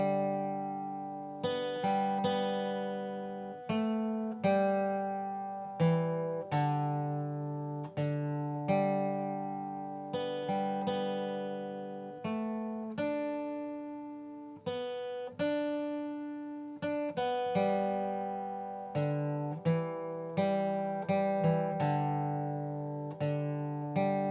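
Amazing Grace picked on guitar in first position with open strings, each clear plucked note ringing out and decaying at an unhurried, steady pace. It is played solo at close range, with no voices.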